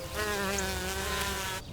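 A cartoon bee buzzes around purple flowers in a steady, close drone lasting under two seconds before it cuts off abruptly, with no talking.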